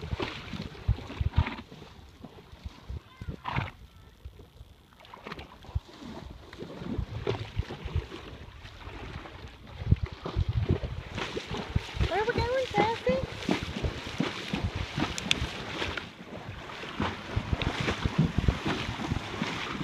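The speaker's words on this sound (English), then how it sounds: "I love the sound of them crossing the water." Sloshing and splashing of water as horses wade through it, with steady wind buffeting and people talking throughout.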